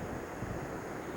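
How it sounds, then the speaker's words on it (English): Strong coastal wind in Ireland buffeting the microphone, a steady low roar with surf-like rumble and no voices. "And as you can tell, it's very, very windy."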